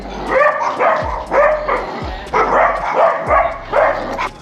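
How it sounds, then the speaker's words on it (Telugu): Dogs bark in a rapid series of about six sharp barks, loud and close, with short gaps between them, in Denmark. "కుక్కలే అవి"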